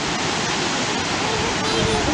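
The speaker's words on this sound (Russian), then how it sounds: "шум воды, шум водопадов" Waterfalls at Letchworth Park give off a steady, dense roar of rushing water, broadband and unbroken across the whole stretch, with no voices rising above it.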